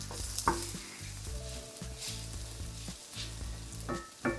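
Leftover basmati rice stir-fried in a pan for beef shawarma rice, a continuous sizzle and crackle with scraping stirring strokes and occasional clanks of the utensil against the pan.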